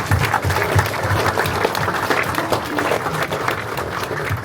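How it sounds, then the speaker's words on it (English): A conference audience at a music producers' panel claps in sustained, loud applause throughout, with some faint voices mixed in under it. "A round of applause for that."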